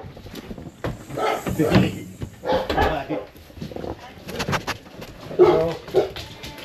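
Dogs bark and whimper in short excited bursts close by, mixed with people talking and a door sound.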